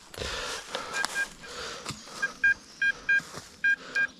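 A metal detector gives a series of short, evenly spaced electronic beeps, close and clear, amid rustling and digging noises in a field search for Bronze Age traces.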